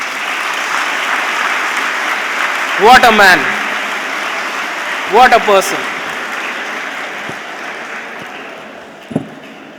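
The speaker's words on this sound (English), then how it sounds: "One round of applause for Sanju Samson," A large audience applauds Sanju Samson at a guest speech, a loud, steady wash of clapping running throughout while someone speaks briefly over it twice.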